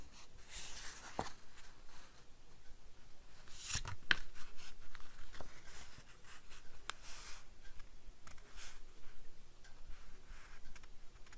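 Scissors trimming paper down to size for a vintage Christmas craft, giving quiet scattered snips and rustles of handled paper throughout, with a sharper click near the middle.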